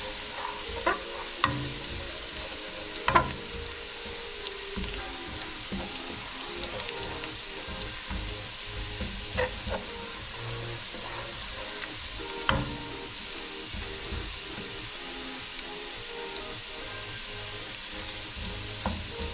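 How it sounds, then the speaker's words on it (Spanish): Minced garlic fries in hot oil as the base for a chicken soup, giving a soft, steady sizzle with scattered small pops and an occasional faint utensil tap, quiet and with no voices. "Cuando veamos que ya está frito el ajo"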